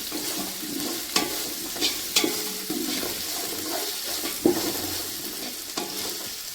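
Ginger stir-frying in sesame oil for a Kerala-style homemade fish pickle, a close sizzle broken by repeated scraping and clacking of a spoon against the pan, steady and unhurried, with no voices.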